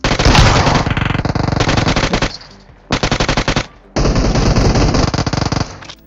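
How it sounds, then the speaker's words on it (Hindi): Rapid automatic gunfire from the PUBG/BGMI mobile battle-royale game, loud and close, in long sustained bursts broken by two short pauses, with dense rattling shots and no talk. "अभी तुमने यहाँ पर गोली चलने की भी आवाज़ सुनी होगी"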